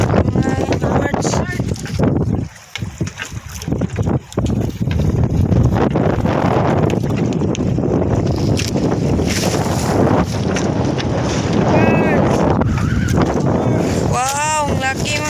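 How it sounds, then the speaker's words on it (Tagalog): Strong wind roars and buffets the microphone continuously, loud and close, with a voice speaking over it and brief squeaky tones near the end. "Lakas ang hangin."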